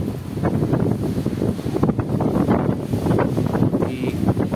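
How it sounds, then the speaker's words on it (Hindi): Strong gusting wind in Islamabad during wet, cloudy weather batters the microphone in loud, rough bursts that rise and fall throughout, with no talking heard. "काफ़ी तेज़ हवाओं का राज इस्लामाबाद में।"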